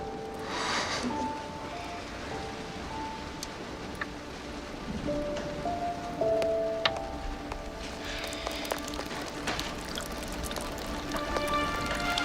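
Steady rain hisses and patters in the background of a Western film scene, with small scattered drips and clinks and no talking.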